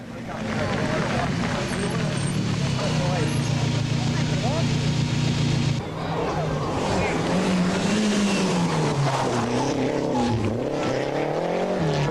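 A Renault 5 rally car races through the night on the Col de Turini during a 1989 Group N world rally stage, its engine loud and revving continuously with shifting pitch, while an excited commentator talks over it throughout.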